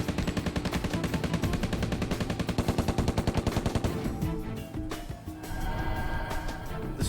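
Sustained bursts of rapid automatic gunfire from a gun fired out the swung-open rear doors of a Suburban, loud and relentless with sharp, evenly spaced reports, thinning into scattered shots and echoes near the end.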